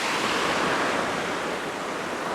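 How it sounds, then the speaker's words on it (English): A fairly large waterfall on a hiking trail in Seoul gives off a steady, close, full roar of rushing water, with no voices over it. "That's kind of a biggish waterfall."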